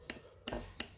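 Canary rearing paste being mixed in a dish, three short scraping clinks of a utensil against the dish, close and quiet with brief pauses between them.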